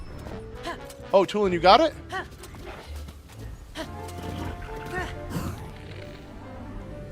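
A horse in the Tears of the Kingdom video game lets out a loud whinny near the start, followed by hoof clatter and game sounds while someone talks over it.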